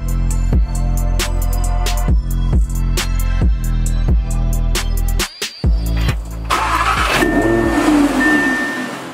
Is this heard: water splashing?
no